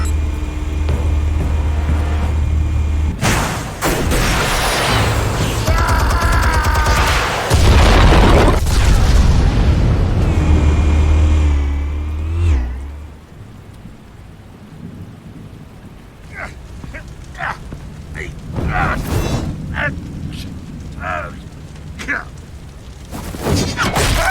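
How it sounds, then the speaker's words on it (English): Explosives detonating in the Batman Telltale Series video game: a heavy rumbling blast roars for several seconds, then fades into quieter debris clatter and scattered crackling. "Explosives armed. Fire when ready."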